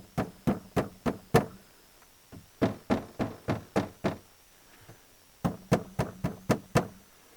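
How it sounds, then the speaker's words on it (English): Loose closet panel in a small camper being knocked by hand, giving sharp hollow knocks with a slight rattle in quick bursts of five or six, close and fairly quiet, with short pauses between groups. "there's a rattle, and I think the rattle's coming from where it attaches to the bottom"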